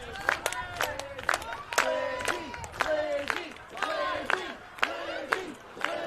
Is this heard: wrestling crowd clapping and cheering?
yes